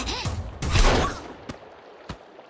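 Gunshots in the video game Sons of the Forest: a burst of loud, close firing early on, then two sharp, isolated shots spaced apart as the noise dies away.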